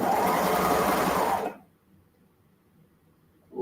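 A sewing machine runs steadily for about a second and a half while stitching the side seam of a ruffle dress, then stops abruptly, leaving near silence.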